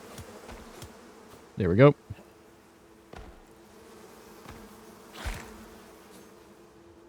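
Bees buzz around a hive in the Icarus survival video game, with a loud close buzzing burst and a fainter pass later over quiet game ambience, and a voice speaks briefly.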